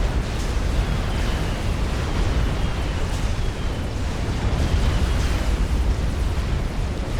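Missile strikes in Supreme Commander Forged Alliance, a continuous roaring wash of explosions with rumbling booms and faint whistling streaks, steady and loud throughout with no talk.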